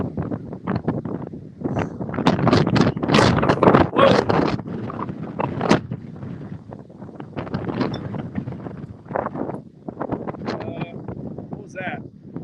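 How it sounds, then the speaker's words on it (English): Strong wind gusts ahead of a thunderstorm in Kingston buffet the microphone in loud, roaring surges that swell and ease, strongest in the middle, with a voice heard speaking over them at times. "Wind now in Kingston, and it is strong."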